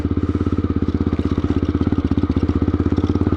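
Aprilia Pegaso 650 single-cylinder motorcycle engine at slow speed, a close, loud, evenly pulsing chug with rapid regular firing beats throughout.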